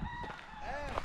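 Chickens in a pen for chickens and pigs in a slum in Spain give short clucks and a rising, wavering crow, fairly faint and close, with a hint of voices nearby.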